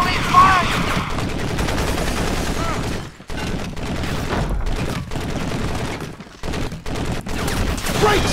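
Rapid automatic gunfire in Crysis multiplayer on a creek map, sustained loud bursts with short breaks and a deep boom, close up, with shouted voices mixed into the battle.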